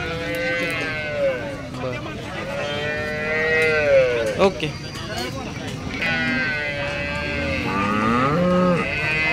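A Jersey cow at a cattle market lets out several drawn-out moos, with someone talking nearby across most of the stretch.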